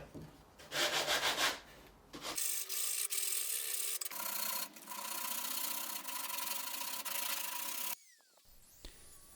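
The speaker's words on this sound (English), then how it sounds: "then used some sandpaper just to smooth off any rough edges" Sandpaper rubbed by hand along the rough edges of a jigsaw-cut MDF piece, a steady, close, dry scratching hiss in long continuous strokes with brief pauses between passes.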